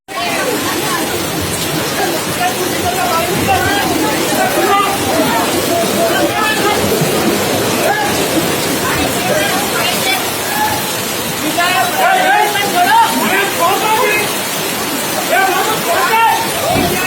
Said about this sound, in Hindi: उस्मानगंज पे हमेशा थोड़ी भी बारिश पे ऐसे ही पानी बहकर जाते रहता है।